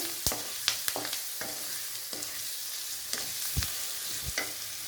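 Eggs cracked into a hot pan with spices being stirred for a Tamil egg pepper fry, broadband sizzling steady throughout with sharp spatula scrapes and knocks recurring every second or so, close and fairly loud, no talking.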